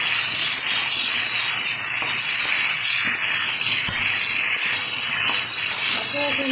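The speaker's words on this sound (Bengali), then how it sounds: "ফুলকপিটা আগে থেকে একটু ভেজে নিচ্ছি" Cauliflower florets fry in hot oil for a vegetarian khichuri, producing a steady, dense hiss and crackle that stays constant and close throughout.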